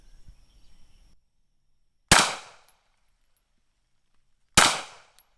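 Two sharp, loud gunshots from a Beretta Cx4 Storm carbine ring out about two and a half seconds apart, each a crisp crack with a short decaying tail, after a brief stretch of faint low rumble.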